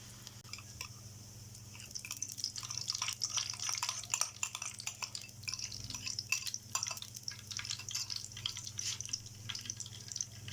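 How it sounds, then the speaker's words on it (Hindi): Aloo tikki potato patties frying in a hot pan give off a steady crackle and spatter of small pops, continuous and fairly quiet, over a low hum with no one talking. "ये हमारी आलू की टिक्कियाँ बड़ी स्पीडी फ्राई हो रही हैं और मज़े की बनती हैं।"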